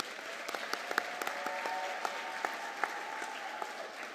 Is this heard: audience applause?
yes